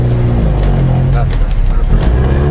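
Modified car engine revving loudly with a steady low rumble and rising pulls, people talking over it throughout.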